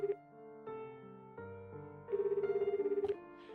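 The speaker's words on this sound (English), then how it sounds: "Still holding the ringing phone in my hands, I run toward the door." Telephone ringing in the video game Genshin Impact, heard as repeated pulsing rings for about a second near the middle, set within music-like tones, with no talking.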